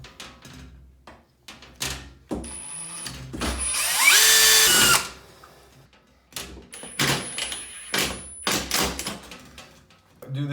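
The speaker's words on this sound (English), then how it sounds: "You have to drill a hole through the header into the wall jamb." A power drill bores through a framed shower door header into the wall jamb in one loud burst of about a second, close by, between quieter clicks and handling knocks.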